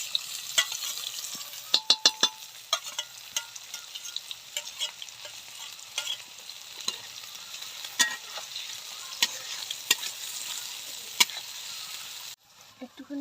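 Onions frying in hot salted oil for pasta, a soft steady sizzle broken by repeated scraping clicks of a spoon stirring the pan, close and fairly quiet.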